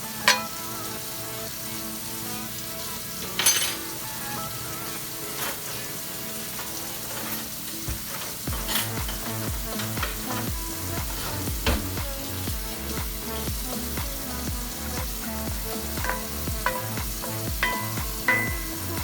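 Eggs fry in a cast iron skillet with a steady, close sizzle while a wooden spoon stirs and scrapes through them in repeated strokes, a few sharper knocks punctuating the continuous crackle.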